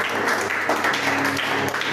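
A church congregation claps and cheers for the Holy Spirit, a steady dense wash of applause filling the room with no pause.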